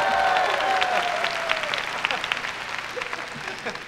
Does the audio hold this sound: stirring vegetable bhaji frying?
no